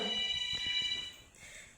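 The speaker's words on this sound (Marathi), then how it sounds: "कोणाच फोन वाजू राहिला का?" A faint electronic phone ringtone tone sounds briefly with a soft background hum.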